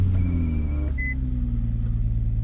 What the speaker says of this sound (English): Ignore my muffler delete.